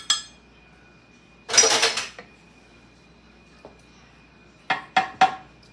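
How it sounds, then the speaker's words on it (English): Eggs are cracked against a pot while mixing Texas sheet cake batter: one brief clattering knock, then a quick run of three sharp, close taps on the rim, with no talking. "Crack your eggs in there, just put it down."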